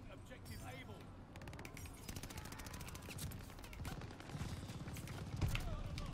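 Rapid gunfire in a Call of Duty Vanguard multiplayer match, automatic bursts crackling steadily over a background rumble, with a few heavier shots toward the end and no speech heard.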